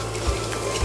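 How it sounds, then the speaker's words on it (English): Red chili flakes and spices toasting in a hot pan for a sweet potato and chickpea dahl, giving a steady close sizzle with soft stirring scrapes. "You just want to toast that all off just until it's fragrant."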